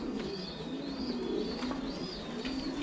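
Pigeons coo steadily at close range on a pigeon farm, a low continuous murmur of several birds with faint higher chirps above, no talking.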